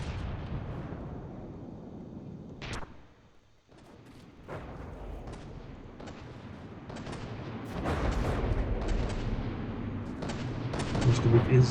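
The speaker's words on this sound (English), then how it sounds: "wonder why he keeps shooting the superstructure." Naval guns boom in a warship battle video game, a series of sharp blasts and rumbling reports over a low background, growing denser and louder toward the end, with faint commentary underneath.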